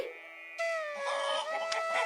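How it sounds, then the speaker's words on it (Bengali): Cartoon roosters crowing and hens clucking, several birds calling over one another in a steady, fairly close chorus with no talking. "আমাদের বাড়ির ভেতর থেকে অনেক মোরগ মুরগির ডাক শোনা যাচ্ছে।"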